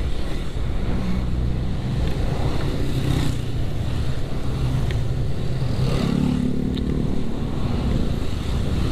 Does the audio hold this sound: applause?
no